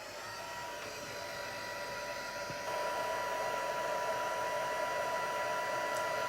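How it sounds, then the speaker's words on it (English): Heat tool blowing steadily to dry air-dry clay on a mixed-media craft piece, a continuous close whirring rush that grows slightly louder about halfway through, with no talking. "I'm just going to use my heat tool to dry it, so excuse the noise."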